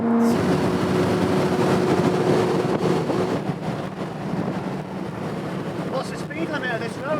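A loud car engine drones steadily from inside the moving vehicle on a 110 km/h road, with rough road and wind roar throughout and a slight easing in level midway.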